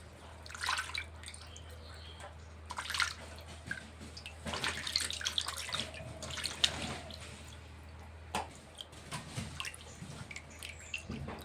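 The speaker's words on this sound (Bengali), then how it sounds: "মাছটা এখন আমি ধুয়ে নেব" Pabda fish being washed by hand under running water: splashing and trickling water with drips and handling in a sink, close and moderately quiet, coming in uneven bursts over a low background hum.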